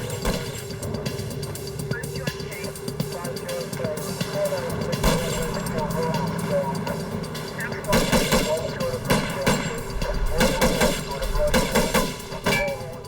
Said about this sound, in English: the driver pulls out a rifle and starts shooting.